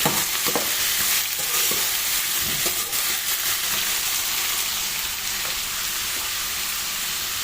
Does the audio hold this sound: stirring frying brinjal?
yes